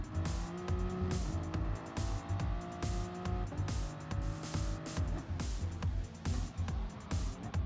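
Toyota Supra racing in Gran Turismo Sport on the reverse Dragon Trail layout: a steady, loud engine drone with shifting pitch as it brakes and accelerates, punctuated by regular clicking and tire noise throughout, no talking.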